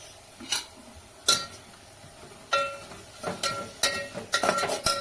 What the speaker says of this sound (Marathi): आता मी त्याच्यात कढीपत्ता टाकते